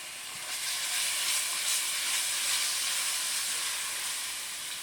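A spice mix hits a hot pan of softened onions for a green tomato, potato and pea curry, giving a broad, steady sizzle that swells up, holds, then eases off slightly.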